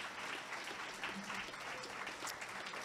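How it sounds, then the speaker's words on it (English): A conference audience at a panel session applauds the panelists, with dense, continuous clapping from a sizeable crowd filling the room at steady strength. "Can we give our audience a round of applause, or our panelists a round of applause?"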